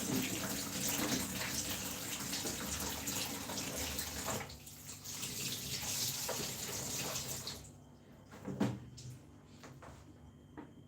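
A spice rack being washed out under running water: steady, fairly loud rushing water for about seven seconds, then the flow stops, leaving a few knocks and handling sounds.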